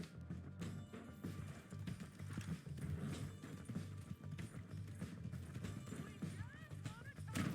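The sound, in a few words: horse galloping in Red Dead Redemption 2 video game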